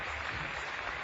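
Spectators at the British Bouldering Championships 2013 semi-final clap for a climber topping a problem, giving a brief burst of dense, even applause throughout.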